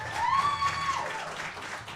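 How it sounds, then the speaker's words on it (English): Audience applause greets a vocalist at a jazz performance, a continuous moderate clapping wash that fades slightly toward the end, with a brief whistle or tonal sound near the start. "please give a huge round of applause"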